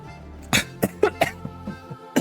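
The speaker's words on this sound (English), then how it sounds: "as I cough through my own spit" A man coughs after eating X2 spicy Buldak noodles: a string of sharp, close coughs and throat-clearing bursts in an irregular rhythm, separated by short pauses, loud and alone without speech.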